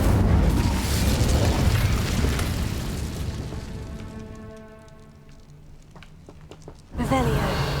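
An Incendio fire spell cast in Hogwarts Legacy, heard as a loud roaring fiery blast that slowly dies away under soft game music, followed by another sudden burst near the end.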